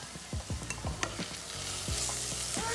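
Chicken being stirred with meat masala in a pan: quick, rhythmic scraping strokes over a constant soft sizzle, close but fairly quiet, with no one speaking.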